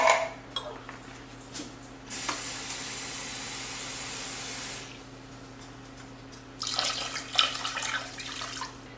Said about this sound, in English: And then we're just going to top the rest of this with water.